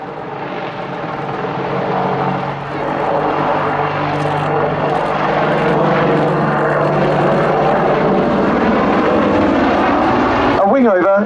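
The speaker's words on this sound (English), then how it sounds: "fly a short routine to display the Apache's impressive range of maneuverability" Apache attack helicopter flying a display routine at an air day, a loud continuous rotor and engine roar throughout, with a voice talking over it.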